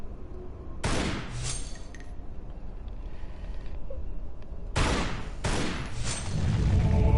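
Pistol shots in the Tomb Raider Anniversary video game: three sharp, loud cracks, one early and two close together later, each with a short ringing tail over low background noise.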